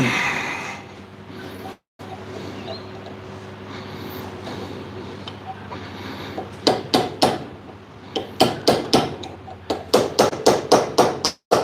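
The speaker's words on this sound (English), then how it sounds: "can't hammer on it too hard because it's only being supported by" Hammer blows ring out on a steel C-clamp being forged, the piece resting on a thin 6mm rod support; after a steady background hum, sharp strikes arrive in quick irregular bursts, loud and close.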